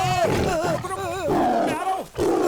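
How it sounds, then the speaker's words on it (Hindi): A tiger roars in a tense jungle movie scene, with deep rumbling growls tangled among dramatic sound effects and music. "वो सामने देख, बाघ मुड़ रहा है।"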